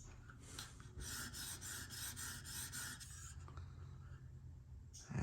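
A Benchmade CLA knife blade being reprofiled and sharpened, giving a steady close-up rasping scrape with repeated strokes for several seconds, then quieter, ending in a brief louder knock.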